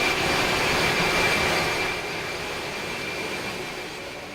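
Airbus A300 jet engines roar in a flight simulator game, a loud, dense, steady rush with a thin high whine running through it, easing slightly in volume partway through.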